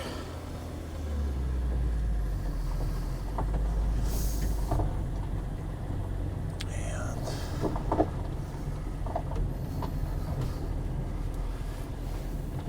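A VW LT31 tow truck pulls away in first gear with a low continuous engine drone and rumbling cab noise, steady throughout, with faint rattles and knocks over the top.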